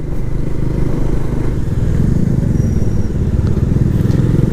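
A motorcycle ridden along a road in Nepal, partly under construction as a four-lane highway, with a steady loud engine drone and wind rumble that carry on throughout.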